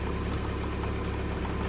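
Idling MK4 Jetta TDI diesel engine just after a cold start on a 10-degree day, a steady, close, continuous low rumble with a faint knocking texture and no talking.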